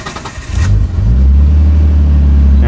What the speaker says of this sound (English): now I give it a rev.